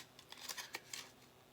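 A quick run of soft, crisp snips from scissors cutting paper, several short cuts in a row, close up and fairly quiet.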